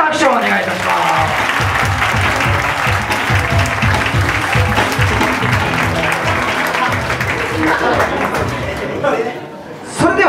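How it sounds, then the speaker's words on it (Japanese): Audience applause for the finalists at the 2016 Hokuriku Final dance battle, Yōkihi versus BTB FACE: loud, dense, sustained clapping from a large crowd with scattered voices underneath, easing slightly near the end. "本当陽気人 BTB フェイス両者に大きな拍手をお願いいたします"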